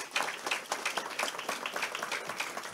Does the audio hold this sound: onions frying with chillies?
no